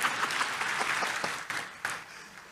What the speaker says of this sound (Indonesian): Kalau tepuk tangan setengah-setengah katanya.